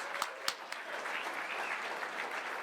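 An audience claps steadily, a soft wash of applause with a few sharper claps near the start.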